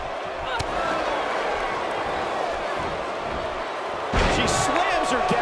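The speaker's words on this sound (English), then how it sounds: "She slams her down with great force." In WWE 2K18, Stephanie McMahon slams Victoria to the mat with a heavy thud late in the clip. Before it comes a steady arena crowd murmur and commentary.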